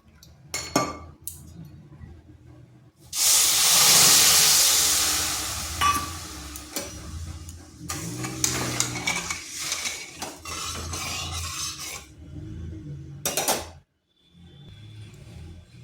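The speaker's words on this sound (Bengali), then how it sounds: "দিয়ে দিচ্ছি 1 বাটি চিনি, আর ওই বাটিরে হাফ বাটি জল।" Sugar and water go into a pan for a sugar syrup: sharp clinks of a bowl and spoon against metal, a hissing pour of granules, then scraping and tapping as the pan is handled nearby, with no talk.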